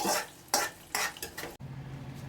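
Fried mustard seed tempering poured into a green gram and banana curry, several scraping stirs and spoon knocks against the pot, then a sudden low steady sizzle as the hot oil meets the curry.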